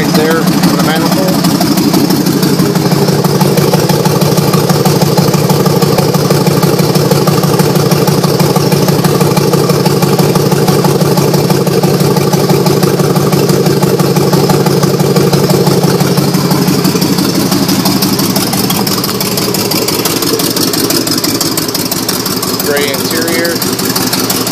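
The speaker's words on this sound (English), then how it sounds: "Exhaust leak is coming right there from the manifold." A 2004 Hummer H2 engine idles steadily with an exhaust manifold leak, giving a continuous loud rumble with faint ticking clatter, while a person talks over it throughout.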